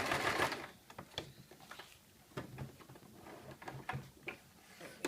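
Sewing machine back stitching near the end of a seam on a circle skirt, a burst of rapid mechanical stitching followed by short sharp clicks and taps close by.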